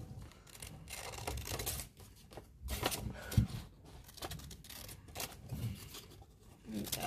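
Scissors cut paper shapes for a handmade Father's Day card in close, uneven crunching snips and rustles that go on almost without a break, with a few short pauses.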